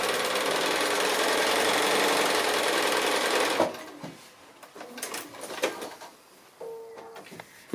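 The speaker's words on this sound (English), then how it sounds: "Remember to stitch out to the edge of your seam allowance when you do this sort of sewing." A sewing machine stitches a foundation pieced quilt block, running as a steady loud close whir for several seconds, then stopping into quieter handling clicks and rustles of fabric.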